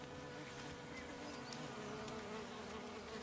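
Honeybees swarming around a hive as heavily laden foragers return with forest honey, a steady dense buzz of many insects close by, with no voices.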